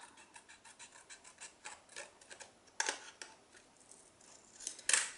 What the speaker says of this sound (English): So don't stress about cutting with the snips.